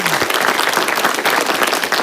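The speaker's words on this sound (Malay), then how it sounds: "tepukan buat semua yang menonton Suara Siswa" An audience applauds loudly and continuously, dense overlapping claps forming a steady roar throughout the short stretch.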